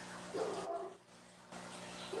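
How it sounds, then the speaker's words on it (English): Dogs bark and yip in short bursts, somewhat distant and muffled, with a brief quiet gap between the bouts. "I hear the dogs barking."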